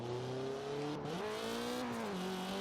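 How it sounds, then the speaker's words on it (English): Turbocharged Mazda Miata in Forza Horizon 4 droning under load, a steady engine tone that dips and climbs with shifts, with faint turbo whistle and hiss across the short span. "those beautiful turbo noises"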